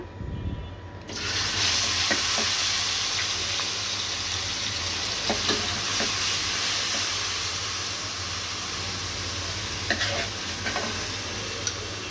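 Onion paste and roast spices frying in hot oil, a steady close sizzle with occasional spoon clicks, continuous and fairly loud throughout.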